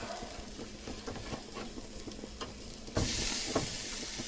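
Pork chops sizzle on an outdoor grill, a steady close frying hiss with small crackles, jumping louder and brighter near the end as the chops are turned.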